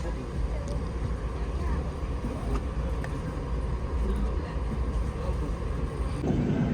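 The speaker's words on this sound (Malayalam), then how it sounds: "വാണിയമ്പാടി സ്റ്റേഷൻ ഒരു ട്രെയിനല്ല പാസ് ചെയ്ത് പോകുന്നു" A double-decker express train running from Bengaluru to Chennai moves through Vaniyambadi station, giving a steady loud low rumble of wheels and carriage noise throughout, with a slight change near the end.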